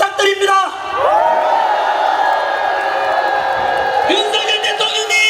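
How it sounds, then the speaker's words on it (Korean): A large crowd at an outdoor political rally in support of the president in Gumi, South Korea, roars and cheers in a sustained wave of shouts and whoops, with brief amplified speech at the start and end. "윤석열 대통령께 한 번 더 응원하는 함성 한번 부탁드립니다"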